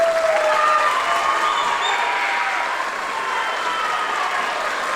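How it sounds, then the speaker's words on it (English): Audience at a middle school spring band concert applauds the symphonic band: dense, sustained clapping from a full hall that slowly fades, with a few faint cheers and no talk over it. "Can we please give Symphonic Band and Mr. Marcos Cuellar a round of applause?"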